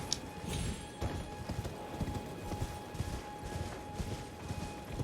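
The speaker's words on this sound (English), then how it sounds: "So, getting on your horse, feel free to have a look around." Horse galloping in the video game Elden Ring, rapid rhythmic hoofbeats drumming close and steady for the whole stretch over a low ambient hum.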